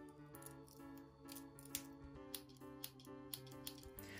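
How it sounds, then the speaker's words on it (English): Victorinox Swiss Army knife scissors are worked in a close, quiet series of small metallic clicks and snips over a faint tonal background hum. "So we also then have the scissors"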